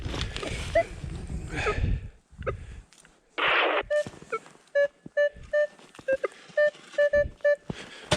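Minelab Equinox metal detector sounding a series of short, evenly spaced tonal beeps outdoors, each clear and alone, following a burst of digging and a brief rush of noise.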